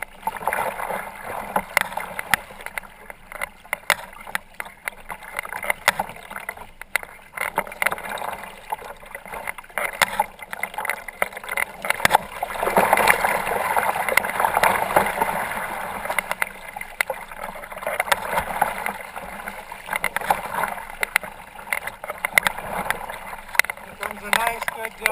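Kayak paddling across choppy water on Moose Bay, Georgian Bay: rhythmic paddle strokes and sloshing, splashing waves against the hull, close and continuous, with wind noise throughout.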